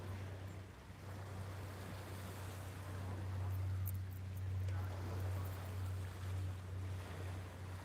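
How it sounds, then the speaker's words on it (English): Waves of the Irish Sea washing against Maryport pier at sunset, a soft continuous surf wash mixed with wind rumble on the microphone, moderately faint and distant. "so that you can hear the waves"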